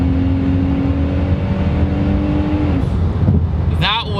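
Turbocharged EcoBoost engine in a Ford Mustang with no downpipe, running loud and close with a steady droning tone that holds, then a rising rev near the end.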